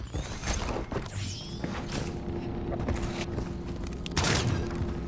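Sniper rifle shots in a Search & Destroy video game match, a few sharp booming cracks amid game noise, with voices talking over them.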